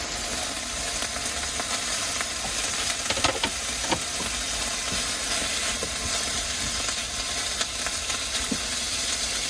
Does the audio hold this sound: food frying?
yes